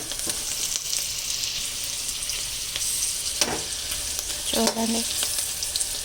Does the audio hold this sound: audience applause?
no